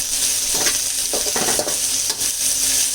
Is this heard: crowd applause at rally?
no